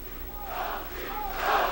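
Boxing arena crowd roaring and cheering for champion Gianfranco Rosi in his bout against Glen Wolfe, a sustained wash of voices swelling in two surges, louder toward the end.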